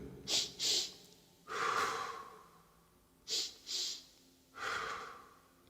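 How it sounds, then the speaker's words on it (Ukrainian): A person performing a breathing technique, two quick sharp inhalations followed by a longer exhalation, repeated twice, close and clear with no talking. "Два короткі вдихи і один довгий видих."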